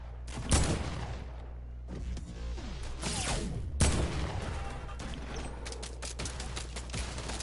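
Video-game gunfire crackles in bursts and volleys, broken by whooshes and mechanical clatter, loud and continuous with a few heavier blasts mixed in.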